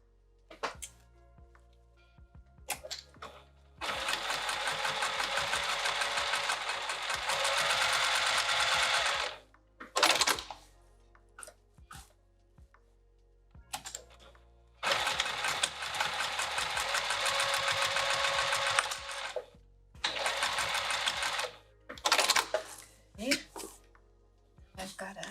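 A sewing machine stitches a bag with piping in long steady runs of whirring, stopping and starting with short pauses, close and loud, with soft movement noises between bursts.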